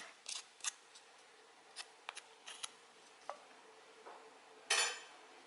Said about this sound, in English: I'm going to scrape the rest of that off the spoon here.